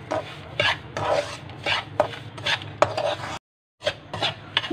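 Semolina scraped and stirred with a spoon in ghee in a pan, a steady rasping rub repeating in strokes with a brief pause, close and alone.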